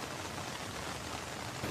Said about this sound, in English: A heavy downpour in the afternoon and evening on Tuesday caused flooding in several areas of Medellin